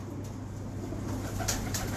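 A pigeon coos softly nearby over a steady low background hum, with a couple of faint flutters toward the end.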